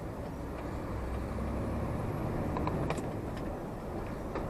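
A 440-horsepower truck engine drones low and steady from inside the cab during a manual shift into sixth gear while speeding up, with faint hisses and clicks riding over the continuous rumble.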